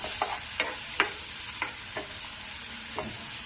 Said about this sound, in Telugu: ఆయిల్ అన్నిటినీ వేసేసుకొని కలిపేసుకోవాలి ఒకసారి